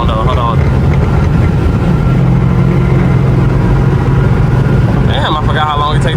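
A car's engine and road noise drone loudly and continuously from inside the cabin at high speed, with a voice talking over it at the start and end.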